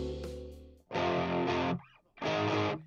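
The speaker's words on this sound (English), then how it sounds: "Here's a rough mix before and after harmonic distortion." Rough rock mix with a wall of distorted, saturated guitars, heard in two loud dense bursts separated by a brief quieter gap, harmonic distortion adding gritty overtones throughout.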